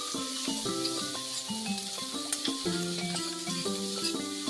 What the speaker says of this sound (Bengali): কাঁচা লঙ্কা, পেঁয়াজ, ক্যাপসিকাম যা আছে সব দিয়ে দিলাম। এবার নাড়তে থাকলাম।